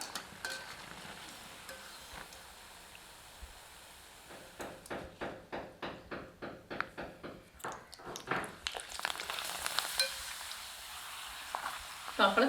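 Vada deep-frying in hot oil for a Pongal feast, a steady near sizzle and bubbling with a run of rhythmic scraping or stirring strokes in the middle, the hiss swelling louder toward the end.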